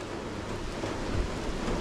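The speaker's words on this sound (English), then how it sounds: "Looks like the thunder and lightning's back." Steady rain falls in a thunderstorm, with a low rumble swelling briefly midway beneath the wash of rainfall; no voices.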